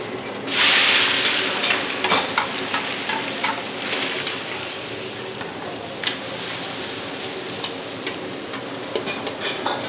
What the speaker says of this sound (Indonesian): Minyak gue udah cukup panas. Langsung gue masukin bawang merah.